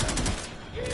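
Kuva Karak rifle fire in Warframe rattles out as a brief, rapid burst of shots, dense and close, fading quickly within a second.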